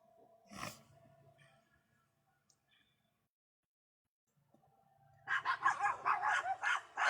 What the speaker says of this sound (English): Oh, that's a pretty puppy.